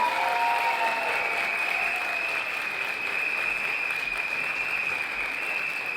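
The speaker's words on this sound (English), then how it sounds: "I want all of you to make a thunderous round of applause" Parents in a school annual day audience deliver a loud, sustained round of applause, with a steady high whistle-like tone running through the clapping.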